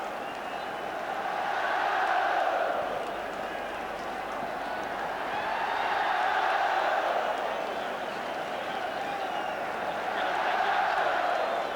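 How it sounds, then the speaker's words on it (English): A large stadium crowd at the 1988 Scottish Cup Final cheers the Celtic players, a broad roar that swells and fades in repeated waves from a distance, with scattered clapping mixed in. "down come the Celtic players, deservedly getting their individual cheer"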